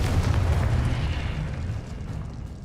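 A Confringo spell explodes in the Hogwarts Legacy video game, giving a deep, loud rumbling blast that starts at full force and slowly fades away.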